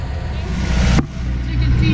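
A sailboat's inboard engine runs to charge the batteries, giving a steady low drone that cuts abruptly partway through before the rumble resumes.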